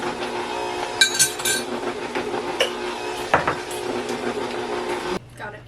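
Chocolate chips are mixed into brown butter sourdough cookie dough in a bowl, with repeated clinks and scrapes of a utensil against the bowl and a few sharper knocks before the stirring stops.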